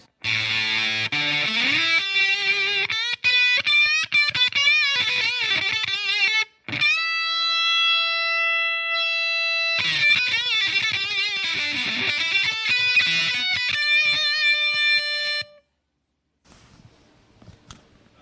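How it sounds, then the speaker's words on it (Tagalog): An electric guitar played through a Boss digital fuzz pedal gives a loud, buzzy, heavily distorted tone, with riffs, bends and a long sustained chord that cuts off into near silence at the end. "this Boss Fuzz is digital"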